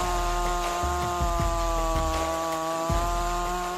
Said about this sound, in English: This powerful chainsaw is equipped with a 36 Tsumura bar and styler's chain.